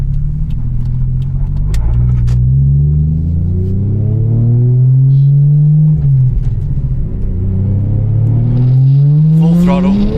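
A Toyota Chaser JZX100 Tourer V with a 1JZ-GTE engine pulls hard at full throttle on nearly bald tyres, with traction control cutting in. Loud, continuous engine roar climbs in pitch, dips briefly at a shift, then rises again.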